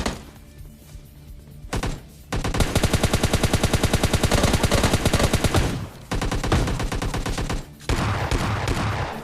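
M16 rifle fire in the PUBG Lite video game: loud, rapid automatic bursts of gunshots, one long sustained volley followed by two shorter ones, punchy and close.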